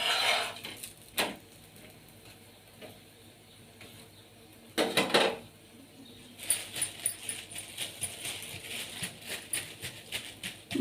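Sweet bobbatlu flatbread being turned over in an oiled pan, with soft scraping and clattering of a utensil against the pan, a few louder clinks and then a busier stretch of light tapping and rattling, no voices.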